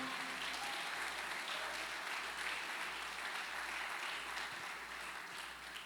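A church congregation applauds during a family worship service, steady broadband clapping heard at a distance and fairly quiet, with a regular low thumping underneath.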